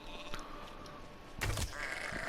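Goats in Elder Scrolls Online, a single short bleat rising out of soft ambient game sound near the middle, close and moderately loud, with no talk.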